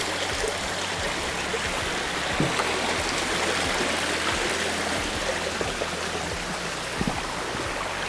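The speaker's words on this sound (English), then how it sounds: "This is an interesting little bit over here, where the water cascades off." Water cascades down a moorland stream in the Peak District, a steady close rushing and burbling wash that fills the whole clip without a break.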